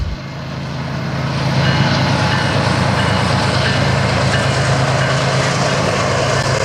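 Diesel freight locomotives pulling away from a station, a steady loud engine rumble and droning hum that builds over the first seconds and then holds, with faint wheel and rail noise and no voices.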